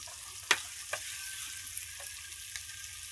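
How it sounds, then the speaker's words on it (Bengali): Onions frying with ground cumin and other spices in a pan in a village kitchen, a steady close crackling sizzle punctuated by a few clicks and scrapes of stirring. "এগুলো সবগুলো একসাথে ভালো করে ভেজে নেবে।"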